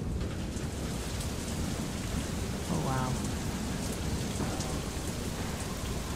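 Rain falls steadily in the video game FAR: Lone Sails, an even, close wash of drops, with a brief low tonal game sound rising through it midway.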